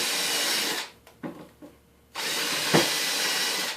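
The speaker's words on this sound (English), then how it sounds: "the reason I'm pre-drilling is because it'll suck this plywood up to the other plywood way better" Power drill pre-drilling plywood for a bay window install: a loud steady whine, a pause with a few brief bursts, then a second sustained run, alone and close.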